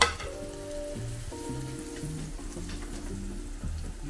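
A sandwich cooks on a grill with a soft, steady sizzle running low under faint background sounds, no talk present.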